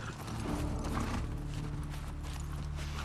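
Hooves of Shimmer, a horse in The Last of Us Part II, clop in a steady rhythm over a droning tonal background, continuous and fairly quiet throughout.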